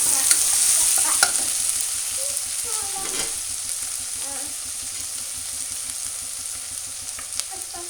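Vegetable pulao gets stirred in a hot pan with a soft scraping and mixing sound over a steady sizzle, with faint scrapes repeating throughout.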